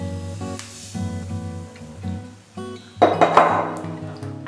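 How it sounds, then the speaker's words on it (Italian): Diced pumpkin and sugar tumble into a cooking pan, with a few clinks and knocks early on and a louder rattling pour at the end over a steady low hum. "In un tegame verso la zucca e aggiungo lo zucchero."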